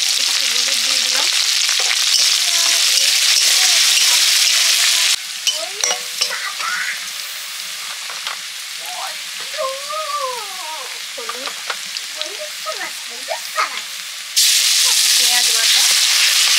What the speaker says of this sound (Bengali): লঙ্কা, শুকনো লঙ্কা, পেঁয়াজ কুচি, একটু হলুদ দিয়ে দিলাম